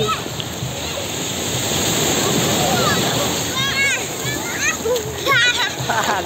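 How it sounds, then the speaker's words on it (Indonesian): Ocean surf at a white-sand beach in Anyer, Indonesia: waves wash and splash continuously under children's excited voices, shouts and squeals close by. "kita mau lawan ombak dulu ya"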